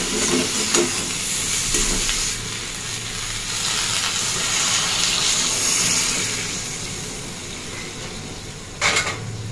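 Water poured into a pan of cooking potato and pointed gourd with salt, turmeric, chilli powder and tomato, giving a steady rushing hiss that fills the whole stretch, with a brief louder splash near the end and no talk.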